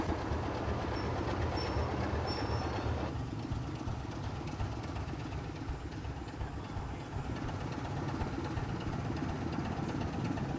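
A British diesel locomotive with a Sulzer 6LDA power unit and BTH transmission runs with a steady, heavy rumble and rattling rail clatter throughout, fairly faint and continuous, with no voices.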